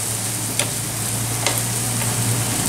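Tawa fry ingredients being stirred and mixed in a pan, with a steady low sizzle and a couple of faint scraping strokes against the metal, close and even, no voices.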